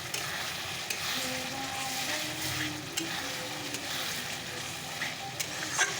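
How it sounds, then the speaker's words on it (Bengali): Onion and spices fry for mutton with a continuous close sizzle, while a spoon stirs and scrapes the pan at irregular moments throughout. "চলো মশলাটাকে ভালো করে কষিয়ে নিয়ে তারপর মাটনটা খেয়ে দেবো"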